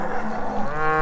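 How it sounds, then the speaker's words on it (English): A cow mooing near a farm gate while calves are being weaned, one long, loud, close bellow that rises and swells toward the end, with no voices. "There's one or two cows singing at the gate over here."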